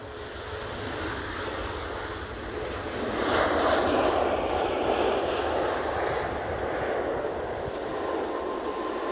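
A SunExpress passenger jet at Edinburgh airport gives off a steady broadband engine roar from a moderate distance. The sound swells slightly partway through and then holds.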